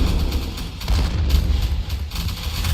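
Howitzer artillery firing in a strategy video game battle, repeated heavy low booms and blasts in a steady barrage of distant-sounding explosions, no speech.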